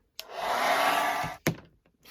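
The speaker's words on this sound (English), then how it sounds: "Probably not enough heat to that hairdryer." Hairdryer blowing hot air onto a model dragon's tail, a single loud steady whoosh lasting about a second, then a short burst and a clunk as it switches off, with no talk.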